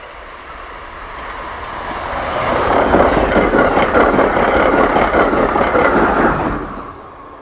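An Amtrak train passes on the Keystone Corridor in winter, its rumble building from a distant approach to a loud, broad rushing roar and then fading quickly as it goes by.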